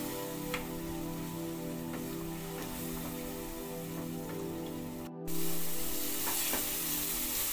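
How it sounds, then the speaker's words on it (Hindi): Masala of garam masala, red chili powder and salt fries in a pan for an egg omelette curry, giving a steady close sizzle with small pops and a brief break before the frying noise swells again. "ये देखिए मसाला मेरा अब भून चुका है"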